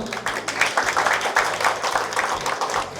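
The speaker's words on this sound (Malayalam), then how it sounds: "ആണെങ്കിൽ നല്ലൊരു കയ്യടി കേൾക്കാമോ?" A film launch audience claps and cheers for the movie Marivillin Gopurangal, a dense, loud burst of applause that fills the whole moment without a break.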